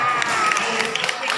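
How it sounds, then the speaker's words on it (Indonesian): An indoor audience applauds the MC at a community gathering, with steady dense clapping and no clear pauses. "Tepuk tangan dong buat MC kita"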